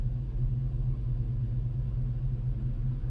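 A 1956 Chevy truck on the road gives a steady, low engine rumble with road noise, even and continuous throughout, heard from inside the cab with no talking.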